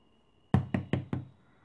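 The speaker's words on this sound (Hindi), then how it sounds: "सहसा माँ की कोठरी का दरवाज़ा जोर से खटकने लगा" Four hard, evenly spaced knocks on a wooden room door inside a house ring out close and loud after a brief quiet hum, each blow sharp and ringing briefly.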